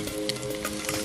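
Chillies fry in a hot pan at an outdoor forest cooking spot in the Parvati valley of Himachal Pradesh, making a steady, loud, crackling sizzle with no voices.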